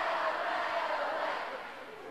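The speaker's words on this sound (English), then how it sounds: "I cannot get over how loud the Bishop Stang crowd is." A loud, steady roar from a packed Bishop Stang high school hockey crowd during a game against Hanover, sustained and dense throughout with no break.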